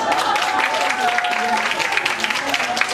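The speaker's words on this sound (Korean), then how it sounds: "박수를 주시면 확실하게 주시죠" An audience at a 2018 university president candidates' public debate claps, a dense, sustained patter of many hands heard from within the hall while a voice speaks over it.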